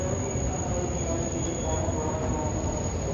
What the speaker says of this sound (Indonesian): KRL-nya masuk di jalur 1.